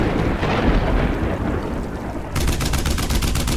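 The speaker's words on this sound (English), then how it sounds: "Let there be lightning." A thunder-and-lightning effect from the video game Modern Tales: Age of Invention: a loud, continuous broadband rumble that turns into a harsher crackling burst partway through, with no voices.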